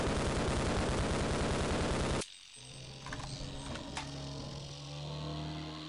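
Sustained automatic gunfire in the video game Half-Life: Opposing Force, a loud dense rattle that cuts off abruptly, followed by quieter scattered game sounds and a low hum.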